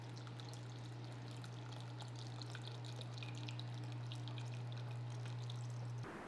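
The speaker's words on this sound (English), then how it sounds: "gently open the bottle to release all the gases and then pour it into your frosted bowl" Supercooled soda pours steadily into a frosted bowl with a continuous trickling, fizzing stream. It is fairly quiet and close over a low steady hum and stops abruptly near the end.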